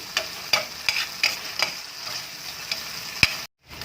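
Onion sautés in a pan with oyster sauce for buttered shrimp, a quiet frying sizzle broken by sharp metallic spatula scrapes and taps at an irregular rhythm, close by, ending in sudden silence.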